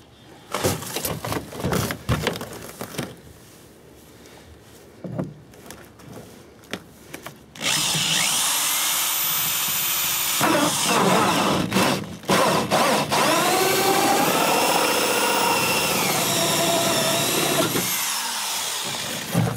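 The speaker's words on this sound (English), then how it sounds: "So we'll drill the other one here." A power drill whirs loudly and continuously into a Chevrolet Silverado truck's metal panel after some clicks and handling noises, pausing briefly before resuming its grinding whine.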